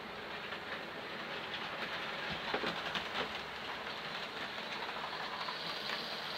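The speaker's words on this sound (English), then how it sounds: "just have a little bit of a running session so you can just see my model railway" A model railway train runs on its track with a steady rumbling clatter, continuous and fairly even, with faint clicking rhythm and no talk.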